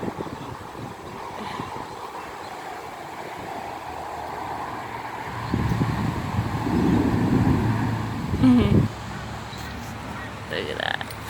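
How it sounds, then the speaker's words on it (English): Wind gusts up outdoors before rain on an early evening, rushing and buffeting the microphone in swells that grow louder midway, under talk. "Ooh, that wind just blew right up."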